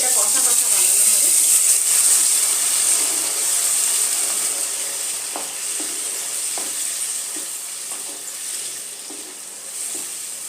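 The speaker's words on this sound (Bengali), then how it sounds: "এর মধ্যে এবার আমি জল দিয়ে দেবো, অল্প করে জল দেবো" Water is poured into a hot pan of pointed gourd curry made with yogurt and cashew paste, giving a steady hissing sizzle that slowly fades, with soft stirring scrapes and clinks over it.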